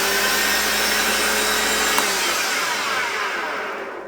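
An old Hoover Junior Dirtsearcher vacuum cleaner in a very sorry state runs with a dry, whining motor roar up close, steady and then spinning down toward the end.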